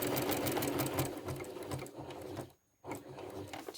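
A sewing machine runs steadily while stitching along a previous quilting line, its fast needle rhythm close and continuous, stopping briefly near the end before resuming.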